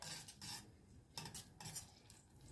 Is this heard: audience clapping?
no